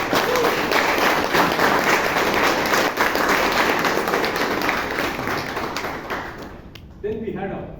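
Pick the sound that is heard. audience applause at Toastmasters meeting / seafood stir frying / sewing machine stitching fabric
audience applause at Toastmasters meeting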